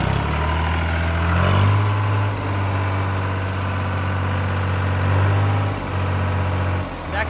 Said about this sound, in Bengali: দর্শক আপনারা দেখলেন গাড়িটি একদম টোকায় টোকায় স্টার্ট নিয়ে নিল।